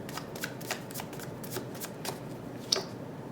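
A chakra tarot card deck being shuffled, soft rapid riffles and card flicks in a quick irregular rhythm, close and fairly quiet.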